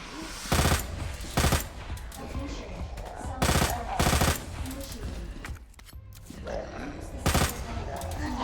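Gunfire in the Resident Evil 2 video game arrives as several loud, sharp bursts of rapid shots with short pauses between them, over game ambience and a low growl.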